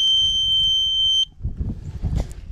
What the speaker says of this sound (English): It's a great little alarm system.